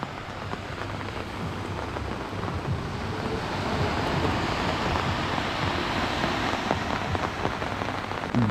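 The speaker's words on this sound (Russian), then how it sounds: "Дождик опять начал увеличиваться" Steady rain falls and patters on surfaces along the seafront promenade in Sudak, a constant broad hiss throughout with no voices.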